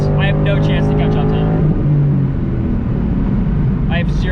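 A Dodge Viper street-racing past at speed, a loud engine roar with a sweeping pitch that drops as it passes, then a fading rumble, with a voice talking excitedly over it.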